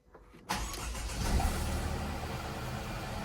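A Mercedes W204 car engine cranks and catches after a brief quiet moment, then settles into a steady, close idle that holds to the end.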